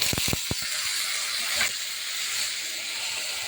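Potatoes tipped into a hot pan for a bean and potato stir-fry hit with a few quick thuds, then a loud steady hiss of sizzling oil carries on close and unbroken.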